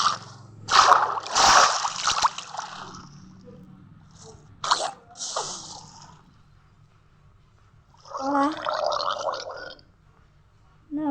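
A Minecraft character splashes and drowns in water, heard as bursts of gurgling, bubbling splashes separated by quiet gaps, with a later stretch of wobbling, gargle-like bubbling.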